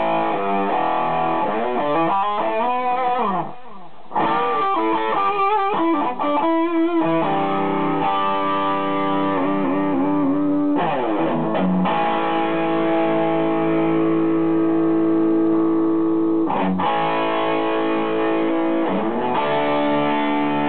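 An electric guitar played through a Tonefreak Severe high-gain distortion pedal, with saturated chugging riffs and sustained chords alone, loud and close, broken by a brief pause.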